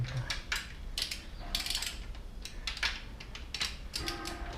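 Ratcheting clicks from a torque wrench as it tightens the cylinder head bolts on a carburetted VW Golf 1 engine, bursts of mechanical clicking repeated in close, fairly steady strokes over a low workshop background.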